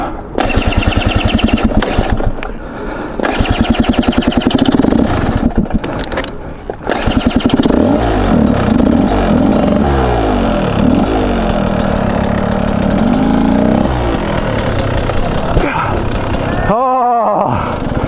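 An enduro motorcycle engine revs and roars continuously while riding over rough terrain at a training session, loud and close throughout with rising and falling pitch sweeps and a brief drop near the end, voices heard faintly over it.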